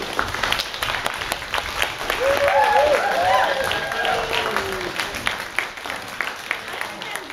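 Audience applause and cheering for the blue team at a live comedy show, a dense wash of clapping with voices rising over it, swelling in the middle and thinning toward the end.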